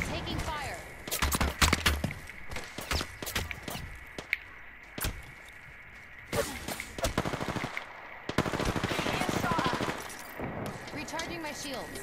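Apex Legends firefight: rapid machine-gun bursts and single gunshots come in repeated clusters, sharp and close, with players talking between and over the shooting.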